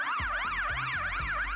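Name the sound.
fire truck siren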